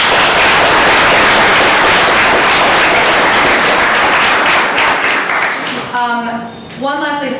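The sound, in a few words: round of applause for student Senate members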